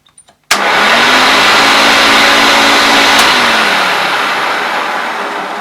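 A Hoover Turbolite U4527 upright vacuum cleaner switches on with a sudden loud roar, rising to a steady high-pitched whine, then settles and fades slightly.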